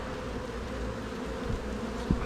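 Honey bees buzz steadily around an open hive with a cracked honey super body, a dense continuous drone close by with a couple of brief knocks near the end.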